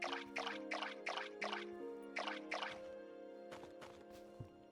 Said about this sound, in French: on va essayer d'arroser pendant que ça cuit